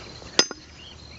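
Two sharp, separate knocks of a hammer driving a piece in, each a short percussive strike with a fainter tap between them, close by over a quiet background.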